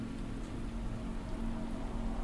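Steady rain from a video game pours down in a constant, dense hiss with a low rumble beneath, unbroken and moderately quiet, with no voices.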